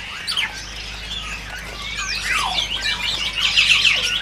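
A Sumatran leafbird gives a run of quick, squawking, chirping calls at close range, its sharp sweeping notes getting busier and louder toward the end over a faint low hum.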